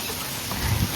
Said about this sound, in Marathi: जोराचा पाऊस पडू राहिला